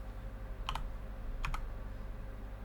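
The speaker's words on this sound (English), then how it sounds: "I had to type in enhanced" A computer keyboard is tapped in two short, quiet bursts of a few keystrokes each, about a second apart, over a low steady background hum.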